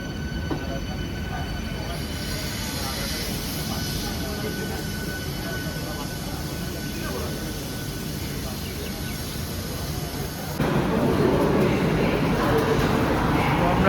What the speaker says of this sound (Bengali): এই হলো ট্রেন